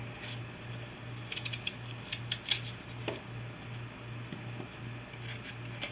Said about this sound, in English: I'm cutting my apple in half